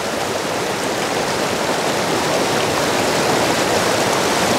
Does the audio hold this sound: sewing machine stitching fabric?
no